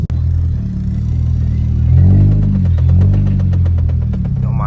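A car engine idling and then revving twice in smooth swells, a loud close rumble that rises and falls, with faint ticking at the end and no talk.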